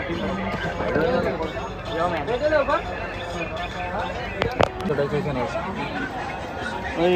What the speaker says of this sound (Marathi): कशी गर्दी गर्दी बघा. गर्दीच गर्दी इकडं.